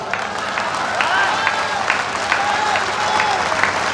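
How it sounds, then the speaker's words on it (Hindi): Scattered applause rises from the audience at a Hindi kavi sammelan poetry recital, sparse claps over a murmuring crowd with a voice speaking over it. "तालियां बहुत कम है आपकी"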